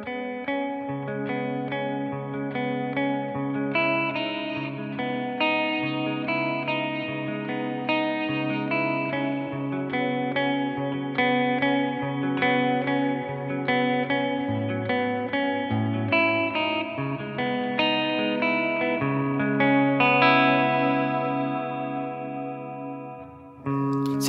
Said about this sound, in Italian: un'idea di arpeggio mi è venuta molto spontanea grazie a questo suono clean con un goccio di riverbero attaccato